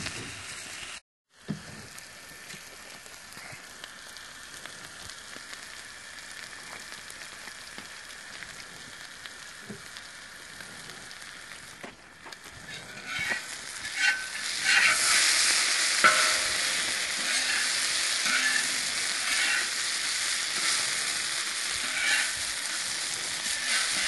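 Sausage and potatoes fry in a pan at a wall-tent camp in New Mexico, a steady hiss of sizzling oil with occasional stirring scrapes that swells louder midway and stays strong, no talking.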